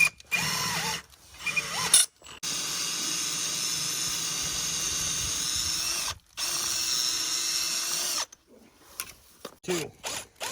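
A power drill with a half-inch bit boring through wood on a busy farm, a loud steady whine in long sustained runs, stopping briefly between passes and ending in short bursts.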